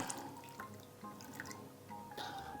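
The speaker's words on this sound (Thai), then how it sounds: "เราจะกรองเอาแต่น้ำมะกรูดลงไปอย่างเดียวนะครับ" Makrut lime juice is strained for homemade dishwashing liquid, with faint, close drips and small trickles of liquid falling at an irregular pace over a quiet background.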